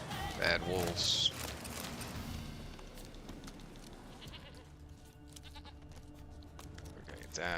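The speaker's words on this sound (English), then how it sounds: "I hear the goat." Goat bleats ring out early in The Witcher 3 amid ambient game sounds, a couple of short calls in the first second or so, with a voice talking over the scene.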